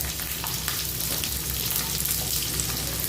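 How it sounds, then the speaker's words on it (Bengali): Chopped ginger, garlic, green chilli and onion frying together in a pan for a paneer dish, a dense continuous sizzle with faint stirring, loud and close, no voices. "সবগুলো একসঙ্গে ভালো করে ভেজে নিচ্ছি"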